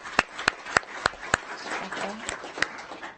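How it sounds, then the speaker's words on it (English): A few people clapping at a school board meeting, sparse and irregular single claps with gaps between them, over faint room murmur and some low voices. "Hopefully she can hear us clapping for her."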